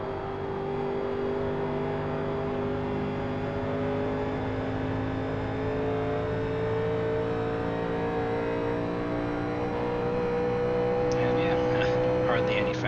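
A 1987 NASCAR stock car engine in the iRacing simulator at Kentucky, a steady loud droning roar with harmonic whine held throughout, pitch rising slightly, with someone talking over it.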